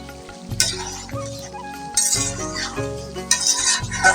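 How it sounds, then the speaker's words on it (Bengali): Dried fish and vegetable curry stirred in a pan, with a spoon scraping and clinking against the pan every so often over a soft simmer. "শুটকির তরকারিটি কিছুক্ষণ পর পর নেড়ে চেড়ে দিচ্ছি"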